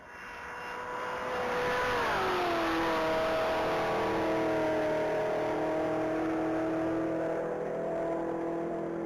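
A supercharged ZL1 V8 car on a Texas Mile top-speed run accelerates hard, its engine note rising and then settling into a loud, sustained high-speed drone, with no talking.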